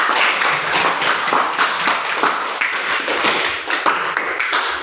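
Classroom audience applause during a school discussion, a fairly loud burst of many hands clapping in an uneven patter that continues for several seconds.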